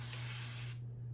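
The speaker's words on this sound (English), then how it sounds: "this is actually my first time ever using this spray bottle" A handheld spray bottle mists water onto curly hair in one steady, close hiss that lasts about three-quarters of a second, then stops.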